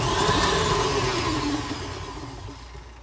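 An electric mixer whirs through softened butter and sugar, a loud steady motor drone that gradually eases off over the three seconds, with no talking.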